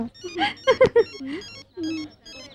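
A telephone ringtone plays a short melodic pattern of bright electronic tones, with a pause and then a few more notes, fairly clear and close.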